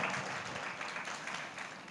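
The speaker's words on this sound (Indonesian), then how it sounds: "Come on beri tepuk tangan dulu kemudian buat Tuhan." Congregation applause during a church service, a brief soft patter of clapping that gradually fades over two seconds.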